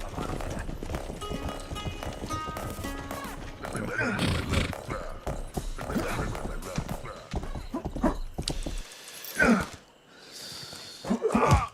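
In a video game speedrun, a horse's hooves clip-clop steadily alongside neighs, grunts and game sound effects, fairly loud and near, with short gaps of quiet.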